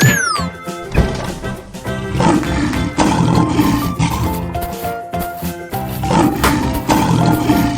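A big lion roar bursts out loud and close and repeats in heavy surges, layered over a busy background of crashes and musical tones.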